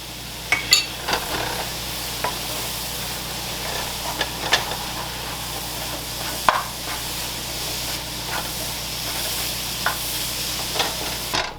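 A puttu mixture with syrup being stirred in a hot pan over lowered heat, a soft continuous sizzle with occasional sharp scrapes and taps of the spoon against the pan.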